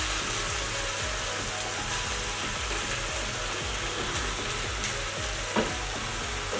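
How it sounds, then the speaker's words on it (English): Fish, onions and carrot frying over high heat in a pan, a steady dense sizzle running throughout with a few louder crackles near the end. "We're going to fry all of this up."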